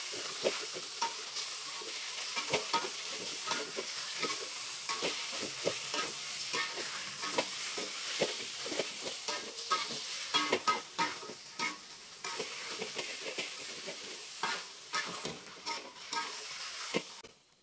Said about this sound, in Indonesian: Lanjut diaduk sampai tercampur rata dan dagingnya mengeluarkan air.